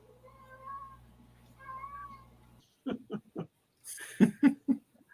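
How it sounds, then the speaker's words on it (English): A cat in a house full of cats meows twice in long, wavering cries, then a burst of short chuckling laughter from people nearby follows. "House full of cats."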